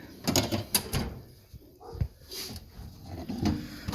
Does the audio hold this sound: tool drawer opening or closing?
yes